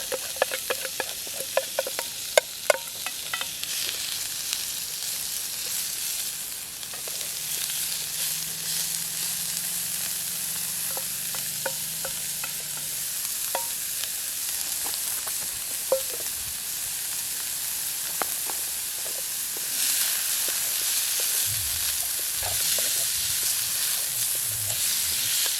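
Beef and onions sizzling in a pan on a Trangia camping stove outdoors, a steady close frying hiss with occasional pops and scraping stir clicks, continuing alone for about twenty-five seconds.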